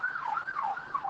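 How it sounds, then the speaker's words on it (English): An emergency vehicle siren on 14th Street in Washington, D.C., wails with a steady rising and falling tone at moderate distance and carries through the whole clip. "we are right at 14th Street in Washington, D.C., so we often get a lot of sirens coming by"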